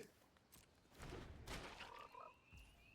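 Game-style frog croaks, a few short throaty bursts with a light thud, fairly quiet and with no talking.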